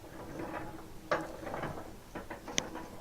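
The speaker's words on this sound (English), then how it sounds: "turning the crown wheel actually turns the pinion wheel, which in turn turns the axle" An old pump cart's crown wheel turns its pinion wheel and axle, giving quiet scattered clicks and soft mechanical ratcheting with a sharper tick near the end.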